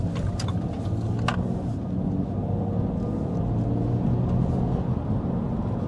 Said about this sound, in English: So now I'm going to take a U-turn right now.